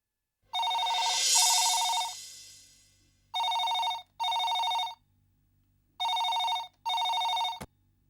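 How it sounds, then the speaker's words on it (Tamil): Telephone ringback tone on an outgoing call in a serial drama: three pairs of electronic double rings separated by pauses, clear and close with a faint hum underneath and a click at the end. "ம் ரிங் போகுது"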